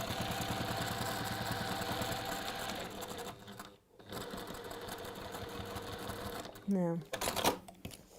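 Domestic sewing machine doing free-motion stitching on textile work, a fast mechanical whirr that runs steadily, pauses briefly, resumes, then stops near the end as a voice speaks a word.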